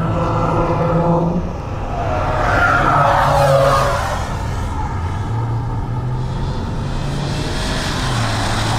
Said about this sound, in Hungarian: És hangosabb a drón megint.